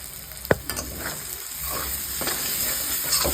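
Potato pieces fry with spices in a pan: one sharp utensil clack near the start, then a steady sizzling hiss with soft stirring scrapes, close and unvoiced.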